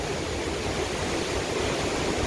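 A river swollen after five days of continuous rain, fed from nearby mountains, rushes in a steady broadband roar, close and loud throughout with no voices.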